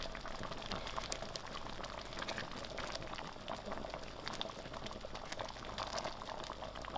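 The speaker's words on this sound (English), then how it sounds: "I increased the heat so you can boil fast." Chicken dhal gosht boiling hard in a pot on a stove over raised heat, with a steady, faint bubbling and popping that carries on without a break.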